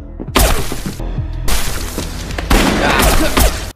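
Gunfire bursts in a film shootout scene come in loud, dense volleys separated by short gaps, with sharp cracks and crashing impacts.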